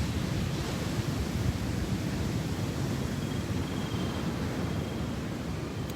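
Steady broadband roar of surf and wind, continuous and unchanging throughout, with no distinct wave breaks or voices.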